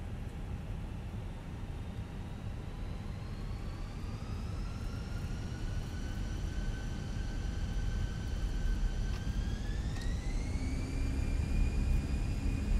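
A320 engines spool up to takeoff thrust in a flight simulator, a steady roaring whine whose pitch climbs gradually and then rises again near the end, continuous and fairly loud with no talking.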